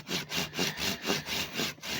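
A hand saw cuts through wood in steady back-and-forth strokes, about four rasping passes per second, close and fairly loud, used as a stand-in after a chainsaw's chain broke.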